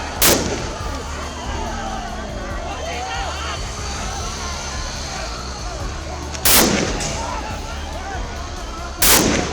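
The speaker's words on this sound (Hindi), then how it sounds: "पुलिस ने पत्थरबाजी कर रहे नौजवानों पर गोली चला दी।" Three sharp, loud gunshot cracks as police fire on stone-throwing youths ring out at intervals over a constant rumble of crowd noise and commotion.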